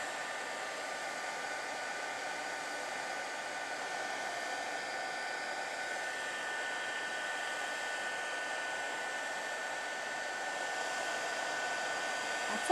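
A hair dryer runs continuously at close range, a steady broadband whoosh that holds level for over twelve seconds while it dries puddles of watercolor ink.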